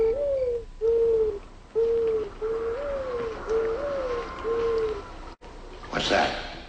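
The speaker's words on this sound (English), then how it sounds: "They heard an owl hoot." A series of soft, low hoots repeat at a slow, even pace, mid-distance, followed by a brief rustling burst at the end.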